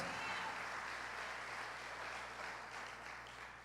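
A church congregation applauds during a sermon, producing a soft, continuous patter of many hands that fades slightly toward the end under a low background hum.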